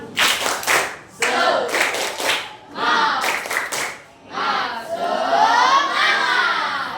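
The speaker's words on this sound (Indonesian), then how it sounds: "Tepuk semangat." A school class does a rhythmic spirit-clapping chant, clapping in quick rhythmic bursts with voices shouting along between the patterns, close and loud.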